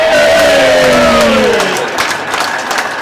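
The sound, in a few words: football crowd cheering a goal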